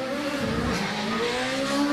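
A GWR Raptor race car with a 1 litre BMW engine climbs a hill-climb course, its engine note rising steadily under load and growing louder as it draws near.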